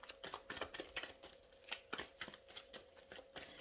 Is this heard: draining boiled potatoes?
no